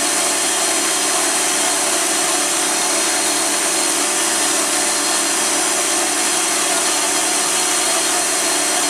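A PM-940 CNC mill with a 2 horsepower motor takes a heavy roughing cut, giving a loud, steady, dense grinding whine that holds unbroken throughout, with no talk.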